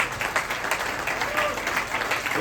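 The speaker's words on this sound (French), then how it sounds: "Je pense qu'on peut encore les applaudir." Audience applause at the inauguration of a new after-school childcare extension in Dingsheim, steady and fairly close, with a voice briefly heard over the clapping.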